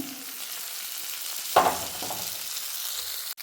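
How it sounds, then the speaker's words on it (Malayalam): Tomato sautéed in a pan gives a soft steady sizzle with a sudden louder burst of frying as it hits the oil midway, then settles, ending with a sharp utensil knock. "ഇങ്ങനെ വഴറ്റി കൊടുക്കാം നമുക്ക് ആ തക്കാളി ഉണ്ടല്ലോ അതും കൂടി ചേർത്ത് കൊടുക്കുകയാണ്"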